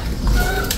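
Ice pigeon giving a short, soft, low coo at close range, lasting under a second, over a muffled background.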